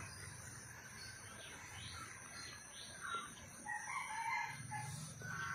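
A rooster crows at a distance over a steady bed of chirping insects, the call rising partway through in an otherwise quiet outdoor setting.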